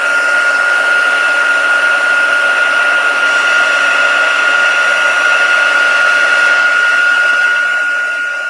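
An embossing heat tool blows hot air in a steady, loud, whining hum with a constant pitch, running without a break and with no voices.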